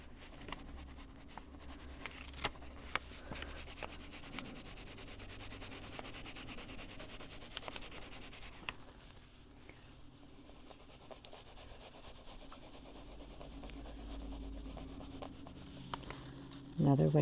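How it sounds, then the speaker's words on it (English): A Holbein colored pencil, held on its side, shades across paper with soft, continuous scratchy rubbing strokes, close and quiet. "I'm using the side of the pencil to do that with."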